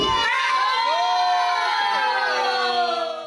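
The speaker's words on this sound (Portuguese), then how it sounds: "no final, é claro, que não pode faltar o grito de gol" A group of children shouting a goal cheer together in a classroom, a loud, sustained chorus of high voices held as one long cry, close and slowly fading at the end.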